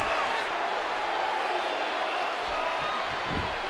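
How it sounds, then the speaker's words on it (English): A packed crowd at a pro wrestling show roars in a dense, steady wash of cheering that holds at the same level throughout. "Crowd just into this action."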